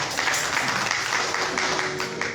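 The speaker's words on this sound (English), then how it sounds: "A round of applause to Dada." An audience breaks into applause, a steady patter of many hands clapping together at moderate loudness for a couple of seconds, with no voices on top.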